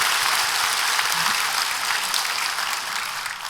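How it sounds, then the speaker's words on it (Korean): A church congregation breaks into loud, sustained applause, a dense wash of clapping that fades slightly toward the end. "다시 한번 우리 뜨겁게 감사 박수"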